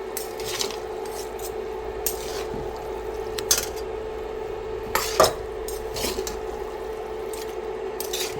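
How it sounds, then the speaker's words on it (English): Pasta is stirred into a shrimp scampi white wine sauce in a pan, with repeated utensil scrapes and clinks over a low, soft bubbling. "once I've added my pasta into this sauce, I want to give it a good stir"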